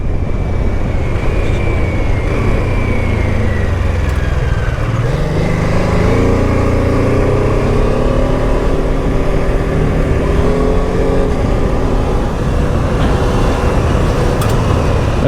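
A BMW F 450 GS motorcycle rides up a trail, its engine loud and close throughout, with rising and falling revs as it accelerates and shifts under wind rush.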